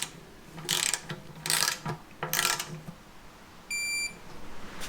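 Ratcheting clicks from a torque wrench in three short bursts as the drain plug with a new O-ring is snugged into an Allison 1000 transmission for a Duramax, followed by a brief electronic beep, close and fairly quiet.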